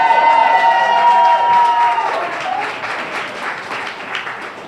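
A crowd at a cafe grand opening breaks into loud, dense applause and cheering that swells at first, then slowly thins and fades as clapping continues over a faint voice.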